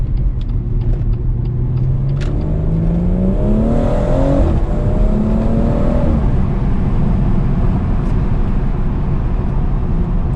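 A BMW M140i accelerating hard at night, engine note climbing steadily through rising harmonics before easing off, with a continuous loud rumble and road noise throughout.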